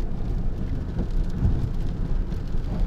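Steady, close rain falls as a continuous wash of noise with a heavy low rumble underneath, unbroken and without any talking.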